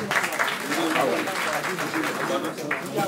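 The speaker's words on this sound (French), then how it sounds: "Nous l'accueillons par vos applaudissements" A conference audience at a chamber of commerce and industry in Kayes applauds a civil society council speaker, a steady wash of crowd clapping with some voices mixed underneath.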